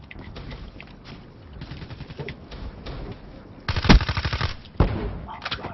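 Rapid bursts of automatic gunfire in a video game, a fast rattling string of shots that grows louder near the end, mixed with game noise and occasional voice sounds.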